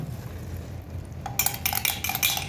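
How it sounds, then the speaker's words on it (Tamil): Half a litre of milk is poured into a hot pan for coconut sweets: quiet at first, then a sudden bright, hissing splash and sizzle that continues in bursts for about a second. "ஸோ இப்போ பால் ஊற்றுறாரு."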